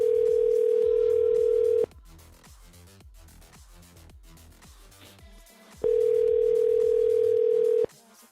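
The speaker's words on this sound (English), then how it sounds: "Oh, it's ringing." Outgoing telephone call ringing back on a dispatcher's line: two long steady tone bursts with a gap between, where faint music plays, heard clearly with no talking.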